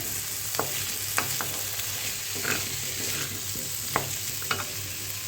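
Sabudana khichuri (tapioca pearls with vegetables) stirred in a frying pan gives a steady close sizzle, with a handful of sharp spoon scrapes at irregular intervals and no voices.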